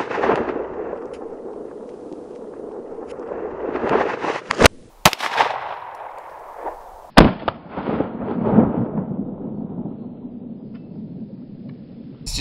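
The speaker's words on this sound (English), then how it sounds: "Now I'm gonna shoot this little gingerbread house with my Glock." Several sharp 9mm Glock pistol shots crack out loud and close at a small gingerbread house, spaced a couple of seconds apart against a steady outdoor background.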